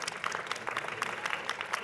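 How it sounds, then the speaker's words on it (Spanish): Audience at a book presentation during the Fiesta del Libro y la Rosa applauding, a short burst of light, fairly soft clapping from a modest crowd. "Un aplauso para ellos porque también fueron parte."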